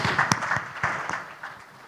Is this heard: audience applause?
yes